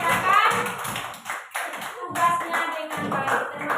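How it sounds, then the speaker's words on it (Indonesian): A classroom of pupils claps for group E, a burst of scattered hand claps that rises and continues at moderate loudness over about four seconds. "Tepuk tangan untuk kelompok E yang sudah mengerjakan"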